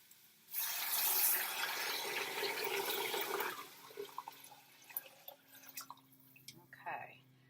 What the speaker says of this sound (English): I'm going to add the water.